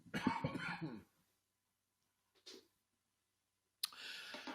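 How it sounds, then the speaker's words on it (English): A burst of harsh coughing at the start, then near silence broken by a short breathy sound and another rough onset at the end. "I have this lingering cough that started at Bouchard Gardens"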